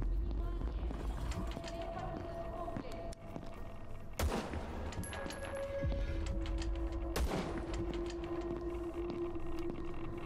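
Gunfire in the brutal first-person shooter game VLADiK BRUTAL, a dense run of rattling shots under a constant rumble of game noise, broken by two sharp loud blasts, with someone talking over it.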